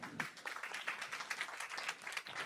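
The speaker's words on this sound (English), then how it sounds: "Let's give him a round of applause." An audience claps at a women's history month cafe event, giving a steady patter of many hands applauding, moderately distant and fairly quiet.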